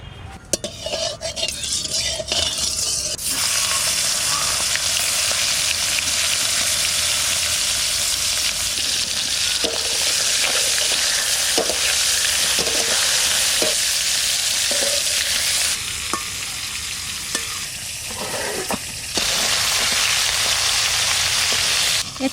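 Fish frying in hot mustard oil in a wok, a loud continuous sizzle close by, with occasional scrapes and taps of a spatula against the metal, no talking.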